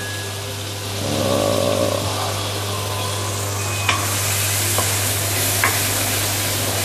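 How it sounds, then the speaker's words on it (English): Okra stir-fries with sambal in oil, a constant close sizzle and crackle with occasional scrapes and stirring knocks from a wooden spatula, under a steady low hum. "Slowly cook this until the oil started to break and the color turns darken"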